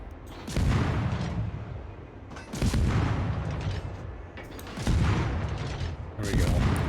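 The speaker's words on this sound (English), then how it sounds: "now we actually have some of the bad guys taking shots" Enemy ships firing guns in a naval video game: three or four loud booming salvos, each a sharp blast trailing into rumbling, echoing gunfire, with sustained noisy battle sound in between.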